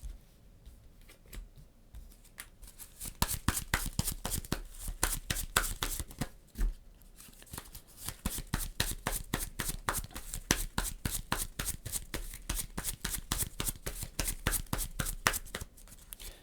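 Cards being shuffled, drawn and flipped during a solo game of the Imperium Horizons board game: a long, close run of quick papery snaps and riffles that comes in steady bursts, with no talking.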